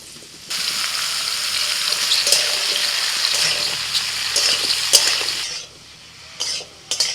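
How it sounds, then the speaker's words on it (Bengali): Mushrooms hit hot oil in a pan for a mushroom masala curry, setting off a loud, dense, close-up sizzle that holds for about five seconds, then drops away to brief spatters. "তেল গরম হয়ে গেছে, প্রথমেই দিয়ে দিচ্ছি মাশরুম।"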